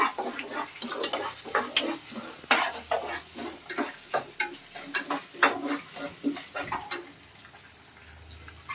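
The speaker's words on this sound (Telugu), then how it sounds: "ఎండుమిర్చి, బాగా వేగాలి." Dried red chillies fry in oil with cumin seeds. Uneven crackles and bursts of sizzle mix with frequent stirring scrapes and clatter against the pan, and the sound eases toward the end.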